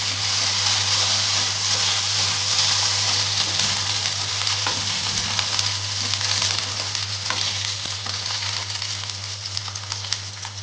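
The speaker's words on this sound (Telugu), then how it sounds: "వేయించుకోవాలి దానిలోకి కొంచెం ఒక స్పూన్ ఆయిల్ వేసుకోవాలి" Peanuts roasting in a spoonful of oil make a steady, close sizzling hiss throughout, with light crackles and faint stirring.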